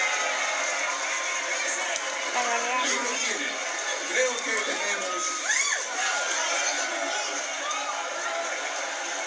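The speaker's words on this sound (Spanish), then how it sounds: "¿Y el aplauso por aquí?" A live audience, many of them children, cheering, whooping and clapping in a steady roar, with a presenter's voice speaking over the noise.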